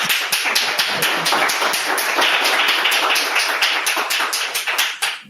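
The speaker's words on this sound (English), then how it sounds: "Can we give our panelists a round of applause?" An audience applauds panelists at the close of a business panel, dense, loud, close clapping for about five seconds before tapering off at the end.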